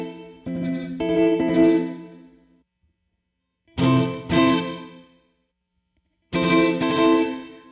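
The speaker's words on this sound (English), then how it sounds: "Let's go ahead and check out the hall reverb." Electric guitar chords played through a Red Panda Context V2 pedal's hall reverb in three separate bursts, each swelling and then trailing off into a long, spacious reverb tail before silence.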